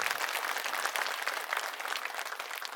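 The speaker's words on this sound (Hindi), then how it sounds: "हमारे कार्यकर्ताओं के लिए सबसे पहले एक बार जोरदार तालियां आप लोग बजाइए" A crowd at an Aam Aadmi Party public rally in Tughlakabad, Delhi, claps loudly in a brief, dense burst of applause that tapers slightly toward the end.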